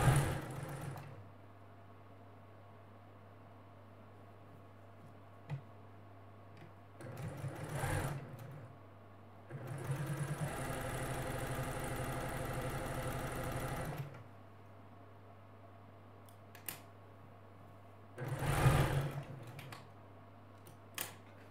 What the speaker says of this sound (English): I'm going to sew all of the rest of my pieces into groups of four, just like this